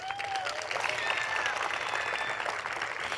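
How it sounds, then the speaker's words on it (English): Applause from an outdoor audience at the groundbreaking ceremony for ElMo, steady dense clapping that fills the moment with a few faint whistles cutting through. "give yourselves a round of applause for making this happen."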